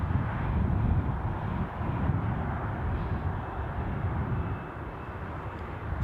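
A KLM airliner departs Newcastle airport under a grey sky, its engines a steady, broad, distant roar that holds evenly and eases slightly toward the end.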